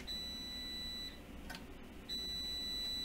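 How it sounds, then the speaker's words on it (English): A kitchen cooking timer beeps high and continuously, pausing briefly before resuming, faint against a low room hum. "that beeping means that the potatoes are done."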